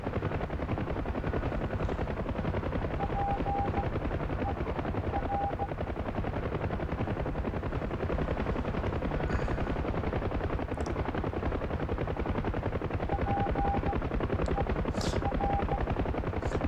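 UH-1 Huey helicopter in DCS flight simulation, its dense rotor chop and turbine whine continuous and loud throughout, with faint intermittent warning tones over the steady drone.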